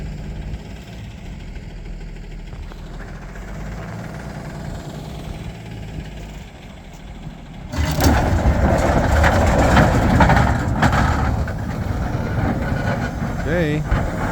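A 1971 Bombardier Wide Gauge tracked vehicle's engine idles low and steady, then grows sharply louder as the machine drives ahead, with a broadband mechanical roar and some clanking.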